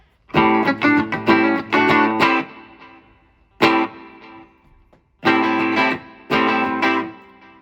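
Electric guitar played through a Line 6 Spider V mk2 amp with reverb and delay: bursts of strummed chords ring out in separate phrases, each tail decaying into a soft wash of echo between them.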